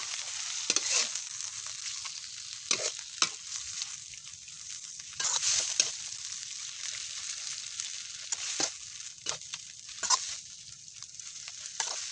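Beef stir-fried in a pan for a spicy Thai curry with eggplant, a steady close sizzle broken by repeated scraping stirs of a utensil against the pan, no voices.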